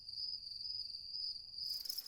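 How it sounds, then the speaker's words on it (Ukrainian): A single cricket chirps in a steady, shrill, continuous trill, clear and alone against a quiet background. "Це цвіркун."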